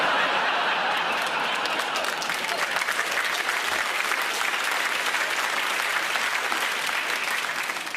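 A comedy show audience applauding a comedian in a UK venue: dense, sustained clapping filling the whole stretch, with scattered chuckles and laughter mixed in.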